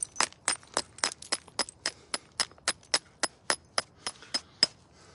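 Flint knapping, stone struck against flint to shape it: a steady run of about twenty sharp, bright clicking strikes, close and distinct, spaced roughly a quarter second apart with no talking.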